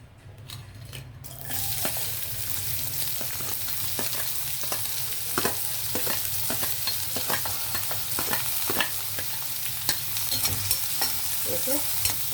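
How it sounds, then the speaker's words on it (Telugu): Onions frying in a ladleful of hot oil in a kadai for a restaurant-style bhindi masala curry, a steady loud sizzle with repeated sharp stirring scrapes and clinks throughout, starting after a brief quieter moment, no voices. "ఆనియన్ బ్రౌన్ కలర్ వచ్చే వరకు వేగనిద్దాము."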